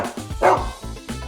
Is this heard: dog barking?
yes